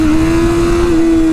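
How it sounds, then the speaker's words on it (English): Motorcycle engine roars under hard throttle during a power wheelie, with a loud steady high-revving tone held close throughout the short moment and no talking. "That was a power wheelie."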